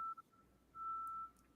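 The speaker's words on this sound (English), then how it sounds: "There's like a backing up beeping noise." Vehicle reversing beeps sound faint and distant: a couple of short tonal beeps, then one longer sustained beep, over a quiet background.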